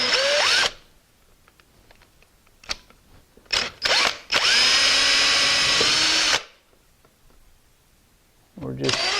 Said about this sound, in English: We're going to drill it out a little bit further